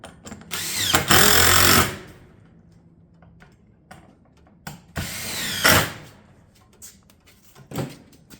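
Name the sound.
power driver fastening tile battens to a roof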